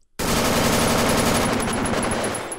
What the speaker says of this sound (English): I'm going to shoot this toaster.